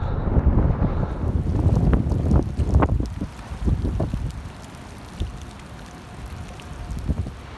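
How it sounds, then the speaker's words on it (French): Strong wind buffets the microphone in loud, gusty bursts during winter pike fishing with lures in rough weather, with rain mixed in; the roar is heaviest early, then eases to a lower, steadier rush. "Il y a trop de vent, trop de pluie."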